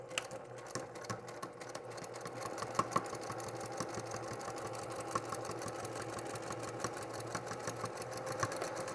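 A sewing machine stitches through the many thick layers of a boxed zipper pouch, fabric and liner crossing over the zipper, with a steady close whirring chatter and small irregular bumps, no talking.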